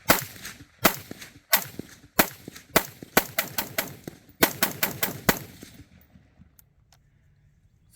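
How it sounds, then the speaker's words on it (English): PWS MK116 Mod 2-M rifle fired on a reduced gas setting, fifteen sharp close gunshots in quick irregular succession with clangs, then quiet. "So 15 rounds. Let's see if she'll run on a lower gas setting."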